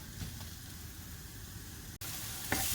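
Onion and ground beef frying in a pan, giving a quiet steady sizzle with a brief break and a slight clatter near the end.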